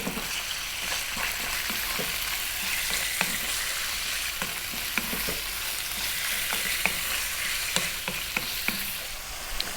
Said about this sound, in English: we're going to add the chopped cut chicken, and you can see it's all quite sort of small, so keep it moving